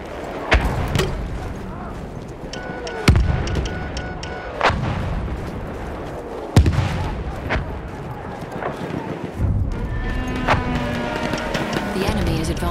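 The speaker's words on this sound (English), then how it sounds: "Halted by our artillery barrage." Artillery barrage in the Battlefield V video game: a series of heavy, booming impacts spread irregularly across several seconds, some near and loud, others duller, over a rumbling battlefield bed with faint voices.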